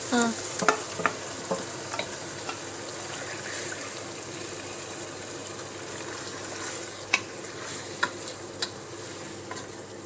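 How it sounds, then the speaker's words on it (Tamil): Chicken pieces stirred through tomato masala for chicken biryani, a steady close sizzle of frying with scattered scraping clicks of a spoon throughout, no voices. "சிக்கன் போட்டு நல்லா மிக்ஸ் பண்ணணும் இல்லையா?"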